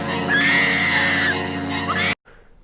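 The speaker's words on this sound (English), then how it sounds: "looks at the camera and screams bloody murder." A woman lets out a loud, sustained scream of terror in the 1981 horror film Friday the 13th Part 2. It rings close and piercing for about two seconds, then cuts off abruptly into near silence.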